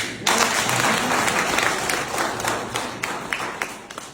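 Steady applause from a crowd at a school farewell party for in-service B.Ed teachers, dense clapping that starts abruptly and carries on loud and unbroken, with a few sharper claps standing out near the end.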